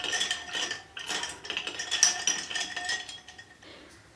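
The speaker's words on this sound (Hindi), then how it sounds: "चम्मच से हम इसको हिला देंगे।" A spoon stirs loquat sharbat in a glass with ice, making rapid, repeated metallic clinks and scrapes against the glass, close and fairly clear with no talking.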